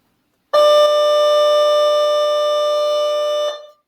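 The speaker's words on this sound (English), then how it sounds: "That's our first lunch bell." A school lunch bell sounds in a classroom as one loud, sustained electronic tone lasting about three seconds, then stops abruptly.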